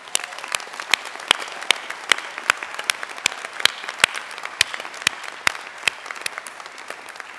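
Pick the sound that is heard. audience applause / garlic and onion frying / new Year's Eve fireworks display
audience applause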